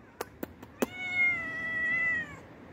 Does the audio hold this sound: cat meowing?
yes